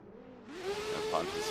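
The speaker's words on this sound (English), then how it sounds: "I can hear the rotary singing away back there." Rotary-engined race car in a drifting video game revving, at Wall Stadium; a steady engine tone climbs in pitch and grows louder midway, sustained and fairly close with no talk.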